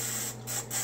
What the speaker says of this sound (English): We're going to spray this down with some Pam.